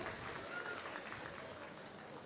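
An audience at a cosplay contest applauding in a dense, steady wash of clapping throughout, fairly faint and distant.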